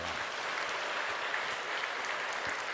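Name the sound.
church congregation applause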